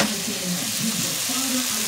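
Cow feet brown in a pan with peppers and onion, a dense, steady close sizzle and crackle with faint stirring throughout, no talking.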